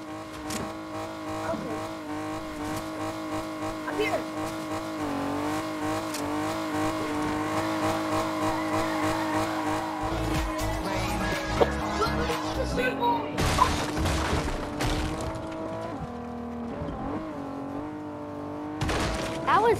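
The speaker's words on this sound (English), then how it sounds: "Bro, I'm in a car waiting for you." A car in a video game drives with a steady engine drone, then a series of sharp crashing and smashing impacts breaks through near the end.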